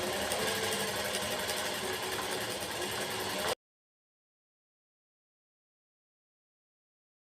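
Sewing machine stitching a sleeve onto a blouse, running as a steady, loud continuous whir for about three and a half seconds before cutting off into silence.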